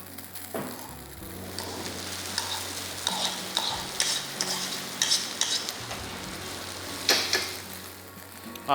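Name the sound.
rice being added and stir-fried in a wok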